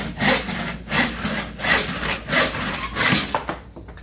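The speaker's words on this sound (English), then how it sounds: "This is just a kind of an old school handsaw." An old school handsaw cuts through clamped wood in steady back-and-forth strokes, about six rhythmic rasping passes close up, ending in a brief pause.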